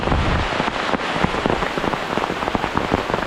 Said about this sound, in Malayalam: ഭയങ്കരമായിട്ട് മഴ തുടങ്ങി. മഴ ഒരു രക്ഷയില്ല പെയ്തുകൊണ്ടിരിക്കുകയാണ്.